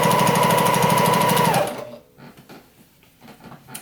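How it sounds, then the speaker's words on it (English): An industrial sewing machine stitching through four layers of fabric runs loud and steady with a rapid mechanical whir, then stops abruptly, leaving quieter shuffling and handling noises. "it's a pretty strong industrial kind of sewing machine."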